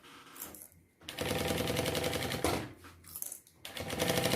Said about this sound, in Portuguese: Agora, eu vou costurar com pé de máquina normal.